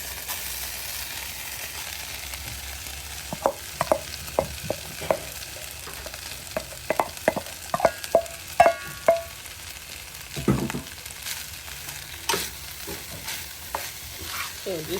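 Rice added to a hot pan and stirred, with a soft background sizzle and a run of sharp spoon scrapes and taps against the pan, clustered in the middle and thinning out toward the end.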